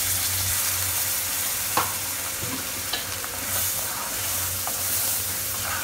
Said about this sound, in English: Now add the green paste into it.